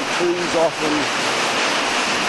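Broad, steady rushing of river water pouring over the Pulteney Weir in Bath, a constant roar heard from the nearby bridge, with someone briefly talking over it.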